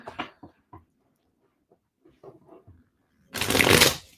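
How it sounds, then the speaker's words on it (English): A deck of tarot cards is given a quick riffle shuffle, one loud close burst lasting under a second near the end, after scattered soft handling taps and rustles. "I'm going to give it a quick shuffle"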